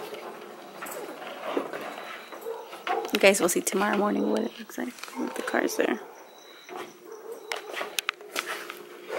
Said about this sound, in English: The little puppy is so cute.